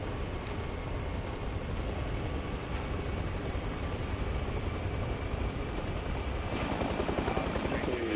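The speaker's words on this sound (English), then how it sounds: "Where's Billy's chopper going?" Helicopter in the video game Arma Reforger, a steady broadband rotor and engine roar holding loud and close for the whole stretch, with a brief sharper burst near the end and faint voices underneath.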